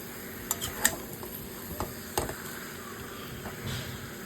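Spices for echore chingri are stirred and fried in a pan: scattered scrapes and clinks of a utensil against metal sit over a quiet, low sizzle.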